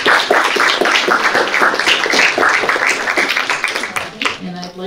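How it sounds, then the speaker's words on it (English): An audience at a candidate forum applauds steadily for several seconds, dense clapping close by that fades out at the end. "let's give a round of applause"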